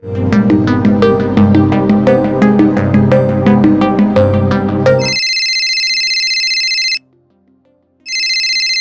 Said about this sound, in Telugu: బ్రోకర్ రంగారావు గారికి ఫోన్ చేద్దాం